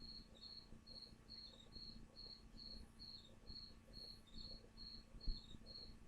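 A cricket chirping indoors, a faint, steady series of short evenly spaced trills repeating over low room noise.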